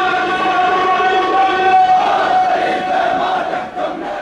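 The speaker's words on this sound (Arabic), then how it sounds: "ورفعت خلاله هتافات إسقاط النظام وتأكيد المفاصلة مع صفقات التسوية" A large funeral crowd chants slogans in unison, a loud, sustained mass of voices with rhythmic swells that grow fuller partway through.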